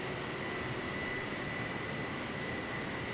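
Small Piper aircraft in a flight simulator, its engine a steady, even drone with a faint tonal whine, heard alone and unchanging at low level throughout.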